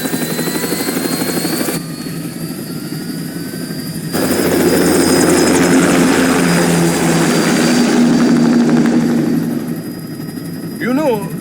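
A large aircraft lifts off in a Metal Gear Rising game cutscene, a loud continuous engine roar that swells and builds under a voice speaking over it, with a faint high whine running through.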